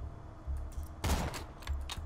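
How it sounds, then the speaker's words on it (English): Borderlands 2 gunfire plays as a rapid rattle of shots in short bursts, with one louder, denser volley in the middle over a low steady game hum, and nobody speaking. "Why am I shooting things that aren't attacking me?"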